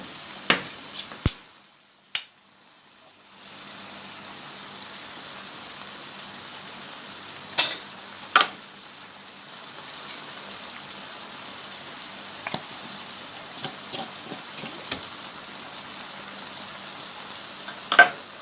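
Canned mackerel goes into a pan of sizzling tomato coconut sauce: a few sharp clicks and taps, then a steady low sizzle settles in, broken by occasional clacks of a utensil against the pan.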